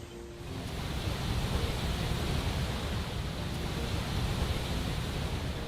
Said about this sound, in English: We made it to the waterfall, my friends. It's beautiful and huge.